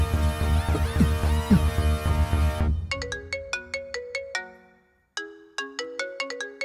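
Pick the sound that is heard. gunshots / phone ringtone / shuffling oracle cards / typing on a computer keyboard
phone ringtone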